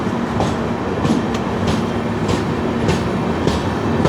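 A passing train heard from aboard the 12685 Mangaluru Super Fast gives a loud, continuous rumble and rush, with faint regular clicks of wheels over rail joints and no talking.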